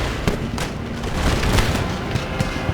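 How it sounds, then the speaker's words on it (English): Cannon fire in a Napoleonic-era Empire: Total War battle, a dense continuous rumble of distant booms and crackling musketry with scattered sharper reports rising out of the din. "These cannons here, I think I'll have them turn fire on this lot."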